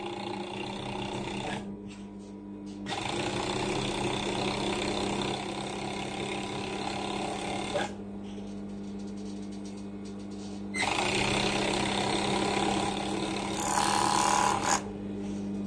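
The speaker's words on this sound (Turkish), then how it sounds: "Diğer yanımızı dikiyoruz. Overlock'umuz 4 iplik. Hem dikişini yapıyor hem temizliğini." A four-thread overlock machine stitches and finishes the side seam of an elastic-waist skirt. It gives a steady, close mechanical hum in several long runs, broken by short pauses and a few lighter clicks.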